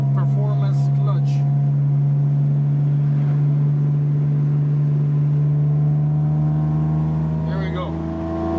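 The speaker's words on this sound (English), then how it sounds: "20 to 80, just random cruise with the Tiburon" A Hyundai Tiburon GT fitted with a cold air intake, headers and a performance clutch cruises along. Its engine holds a steady, close droning hum with a slight rise in pitch toward the end.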